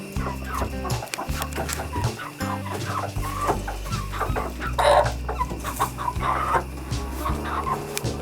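Several chickens cluck and murmur steadily inside a new chicken coop, a dense flock chorus up close with occasional louder calls and no talk.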